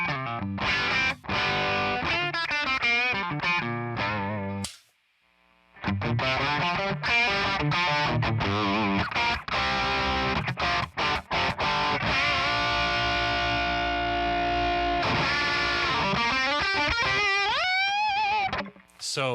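Electric guitar on the neck pickup, played through an amalgam audio ToneX red pedal lead capture with the volume rolled down, gives driven phrases, sustained notes and bends with a brief silent gap near the start.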